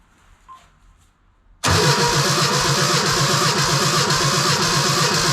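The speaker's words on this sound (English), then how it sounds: "The other side's working. Air compressor." An air compressor kicks on abruptly after a quiet stretch, then runs loud and steady with a dense mechanical drone and a fast, even pulsing throughout.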